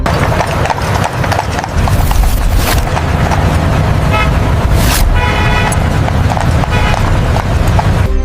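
Horse hooves clip-clop steadily as a horse-drawn carriage rolls through a city park, with road traffic and a car horn sounding around it, loud and continuous.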